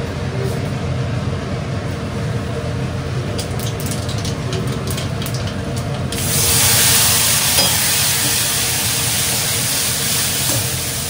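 Pointed gourd sizzles as it fries in hot oil in a home kitchen, a steady close-up crackle that grows louder and brighter about halfway through, with no talking.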